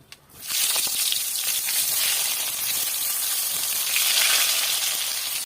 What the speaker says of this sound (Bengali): এবার আমি বেগুনটা ভেজে নেবো।